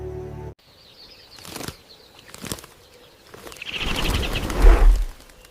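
A bird bursts into flight with loud flapping wings and sharp calls, warning of an approaching predator or person near rhinos; fluttering swells and fades in bursts, close and alone.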